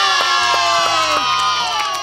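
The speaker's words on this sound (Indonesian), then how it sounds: "Tepuk tangan semua bilang ye." A group of kindergarten children at a storytelling session cheer and shout together in a loud, sustained burst, with bright ringing tones running underneath.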